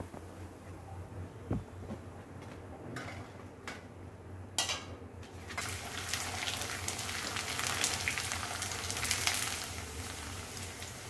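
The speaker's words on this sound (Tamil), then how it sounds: "பிரியாணி தொட்டுக்கிறதுக்கு அரிசி அப்பளம் பொரிச்சுக்கிறேன்." Rice appalam (papad) going into hot oil, with a few sharp taps first, then a sudden rise into a dense, bubbling sizzle that holds steady and close.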